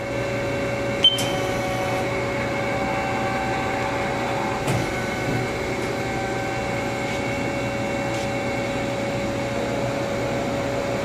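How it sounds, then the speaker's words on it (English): A Haas ST-40 CNC turning center runs its live tools, giving a steady droning mechanical hum with a constant whine and a few sharp clicks along the way. "we're going to show the live tools"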